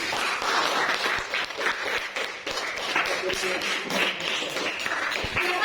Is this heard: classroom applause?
yes